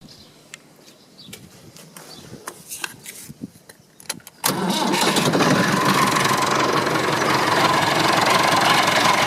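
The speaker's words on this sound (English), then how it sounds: "Well, you see I just started it up" A Massey Ferguson 265 tractor engine fitted with a new radiator cranks with a few clicks and rattles, then catches and settles into a loud, steady diesel idle close by.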